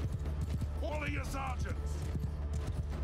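Horses gallop in the medieval battle game Mount & Blade II: Bannerlord, a steady busy clatter of hooves under a dense roar of battle noise, with a faint whinny rising briefly in the middle.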